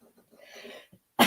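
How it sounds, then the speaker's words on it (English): A person coughs outdoors in a quiet snowy forest: faint soft sounds first, then one sharp, loud cough burst at the end. "that's my coughing"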